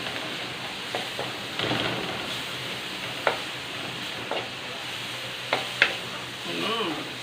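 Bagoong alamang shrimp paste sautés in a pan for pork binagoongan with a steady close sizzle, broken by occasional spoon scrapes and knocks against the pan.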